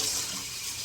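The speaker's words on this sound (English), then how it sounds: "Fill it up with water." Tap water runs into a pan while making crumb cake, a steady hissing gush at moderate level that continues unbroken throughout.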